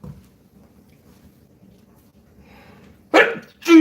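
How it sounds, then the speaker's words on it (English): A person sneezes sharply, a loud close burst near the end of a quiet kitchen moment while pepper is being used, with a second short burst right after. "I gotta sneeze"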